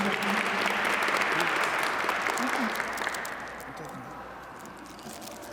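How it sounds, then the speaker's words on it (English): An audience at a Black History Month crowning ceremony gives a round of applause, dense and sustained at first, then gradually thinning and fading toward the end. "Let's give her another round of applause"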